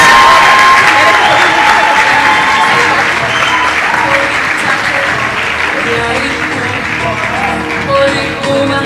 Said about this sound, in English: A round of applause for our winners.